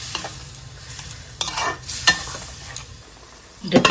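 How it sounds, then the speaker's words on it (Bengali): Mola fish curry with a splash of water being stirred and fried in a pan, bursts of scraping and wet sizzling between quieter moments, close and loud, with no voices. "একটু জল দিয়ে দিলাম। ভালোভাবে কষাই নিব।"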